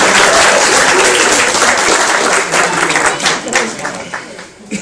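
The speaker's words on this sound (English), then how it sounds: "So a big round of applause." Wedding guests at Danielle and Dean's reception give a hearty round of applause, loud close clapping that starts full and tapers off near the end, with some talk mixed in.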